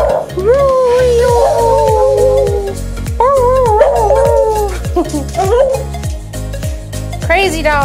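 A dog howls and whimpers loudly in long wavering cries that rise and fall for about eight seconds, over a steady rhythmic thumping backing.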